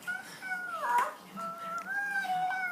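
A child imitates a cat's meow, giving two drawn-out, rising-and-falling mews one after the other, close to the microphone and clear with no other talk.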